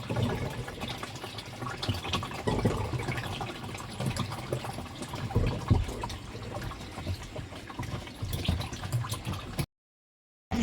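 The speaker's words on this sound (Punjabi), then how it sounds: "ਇਸ ਤਰ੍ਹਾਂ ਮਸ਼ੀਨ ਨੂੰ ਸਾਫ਼ ਕਰ ਸਕਦੇ ਹਾਂ ਪ੍ਰੈਸ਼ਰ ਮਾਰ ਕੇ ਪਾਣੀ ਦਾ" Pressurised water sprays steadily inside a washing machine being cleaned, a continuous rushing hiss and splatter that holds for most of the stretch before stopping abruptly.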